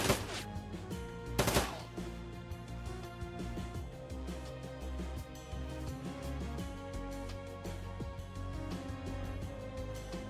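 Gunfire aimed at turrets in the game Shadowrun, with a couple of sharp shots near the start and steady firing continuing under a dense, busy game soundscape, without voices.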